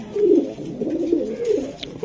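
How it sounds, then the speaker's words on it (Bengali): A young female silver racing pigeon coos in a low, throaty warble. The rolling coos are close and clear and run for about two seconds, with no one talking. "এটা একটা মাদি কবুতর ভাই, মাদি কবুতর"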